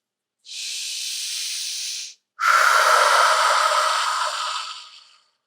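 Three slow, deep breaths are drawn near the microphone in a quiet room during a grounding meditation. Each one is a soft, airy hiss that stops with a short pause in between, and the last breath trails off gradually.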